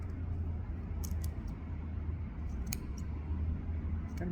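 Scissors snip at the loose yarn of a handmade pom pom, a few short crisp cuts near and quiet over a steady low background hum.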